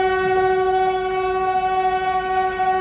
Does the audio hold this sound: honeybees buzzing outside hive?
no